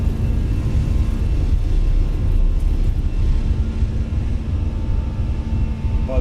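A Fenix A320 jet takes off in Microsoft Flight Simulator, its engines producing a steady, loud, broad roar with a low rumble that holds constant throughout.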